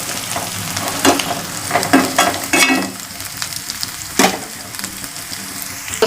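Ginger garlic paste fries in a hot pan for an egg curry, with a steady close sizzle and crackle and a few sharper scraping stirs of a spatula. No one speaks.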